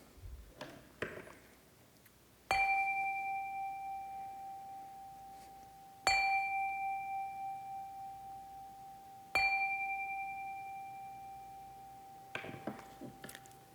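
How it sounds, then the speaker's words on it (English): A chime is struck three times at a Sunday service of a Unitarian Universalist fellowship, each clear metallic strike ringing out and decaying slowly with a shimmering beat before the next, followed by faint rustling. "enter this moment with the ringing of the chime"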